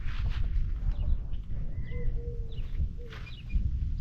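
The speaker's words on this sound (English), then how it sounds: "you hear birds chirping." Birds chirping on a potato farm, a few short high calls scattered over a low steady background rumble, fairly faint and distant.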